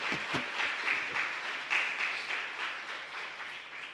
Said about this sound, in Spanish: Yo creo que son merecedores de un fuerte aplauso en agradecimiento.